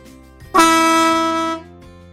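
A MotoHorn air horn with compressor gives one loud, close, steady blast lasting about a second, rising sharply and cutting off, with quiet background before and after.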